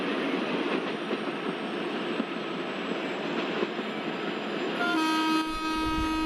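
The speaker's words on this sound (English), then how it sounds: "The freight train which is led by Pune WDG4 locomotive which is crossing our train with a high speed." A freight train led by a Pune WDG4 locomotive passes at high speed in Microsoft Train Simulator, a loud continuous rolling rush ending in a sustained horn blast, with no talking.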